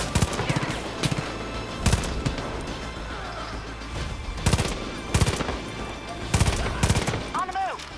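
Bursts of gunfire in the video game Far Cry 5, loud sharp volleys recurring every second or so against a rumbling backdrop, with a voice speaking in between.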